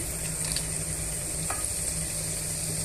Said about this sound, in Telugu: ఇప్పుడు ఇవన్నీ వేయించుకోవాలండి